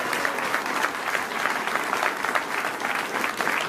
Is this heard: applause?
yes